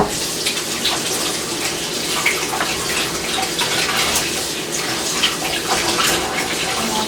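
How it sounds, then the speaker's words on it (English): Hands being rinsed under a running kitchen tap, a steady close splashing gush of water lasting several seconds, with no talk. "let me rinse my hand off and zoom in"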